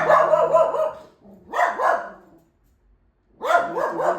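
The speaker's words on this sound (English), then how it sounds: "my dog is running around barking at people" A dog barks in three loud, close bursts, several sharp barks in each, with short silent gaps between them and no talking.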